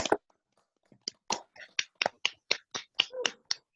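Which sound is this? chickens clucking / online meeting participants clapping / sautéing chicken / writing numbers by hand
online meeting participants clapping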